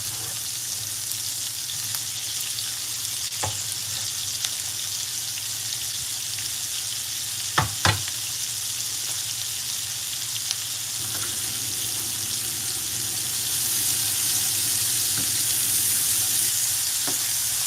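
Vegetables sizzle steadily in a hot pan alongside papaya and fish, a continuous close frying hiss broken by a few sharp clatters of utensils or stirring, with no talk.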